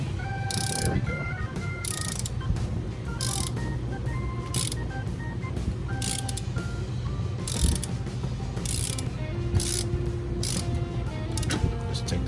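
A ratchet with an 11mm socket loosening a bolt on the steering box of a 2003 Cadillac Escalade, rapid repeated clicking bursts of the pawl in steady strokes, close and fairly loud, with no talk.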